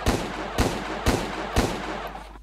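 Four loud, evenly spaced firework-weapon blasts fired at a dinosaur in the video game Dinostorm, each a sharp broadband burst about half a second apart over a steady low hum.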